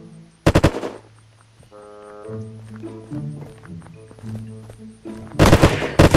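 Bursts of automatic gunfire in the survival game Unturned, two loud rapid volleys at the start and end with quieter game sounds and music between, no talking.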